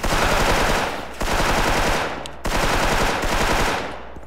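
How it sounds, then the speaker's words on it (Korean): Rapid machine gun fire from the online shooter game Special Force, loud and continuous in three long, sustained bursts separated by brief drops. "총소리 끊기지가 않네"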